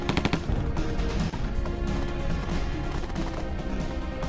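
Gunshots in the video game Bakery Girl, a dense burst of sharp, loud cracks at the start followed by continued clattering, crashing shots and busy game noise throughout.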